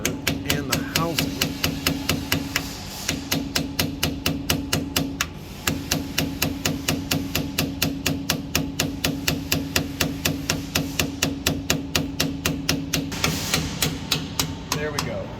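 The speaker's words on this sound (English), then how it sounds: "I'm using a real thin flat blade screwdriver and a ball peen hammer." A ball peen hammer taps a thin flat blade screwdriver behind the rear axle cover of a Ford Super Duty, giving a steady run of sharp metallic strikes, close and even, with a short pause near the start.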